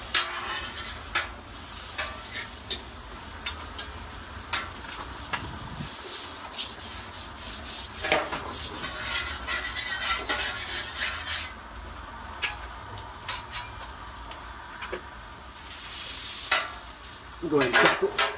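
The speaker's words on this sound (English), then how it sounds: "Now let's go ahead and give this steak a flip." A steak sizzles on a Blackstone flat-top griddle while a metal spatula scrapes and rubs across the surface, a continuous close hiss broken by rough scraping strokes and a few sharper knocks.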